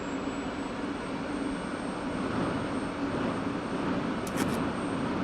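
In a flight simulator set on a night airfield, a jet fuel starter spins up, making a steady loud whine and roar with a high tone that climbs gradually, plus a brief click near the end.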